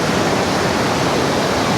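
Steady loud rush of water pouring down over a small dam, a dense continuous roar with no pauses and no voices.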